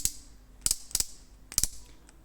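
Crisp ratcheting clicks from the torque setting ring of a CAT DX12 18V brushless cordless impact drill. They come in three short bursts of quick double clicks, close and fairly loud over a quiet background.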